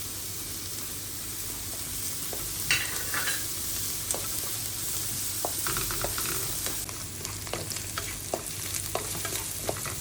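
Chopped spring onion bases stir-fry over high heat for veg fried rice, a dense loud sizzle with repeated scraping and clattering of a spatula against the pan throughout.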